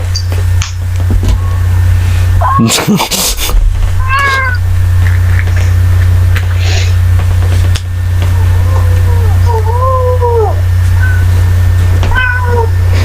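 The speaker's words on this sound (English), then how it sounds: "Is your cat talking to you?" A cat meows several times, short rising and falling calls spaced apart, over a steady low mechanical hum with a brief clatter early on.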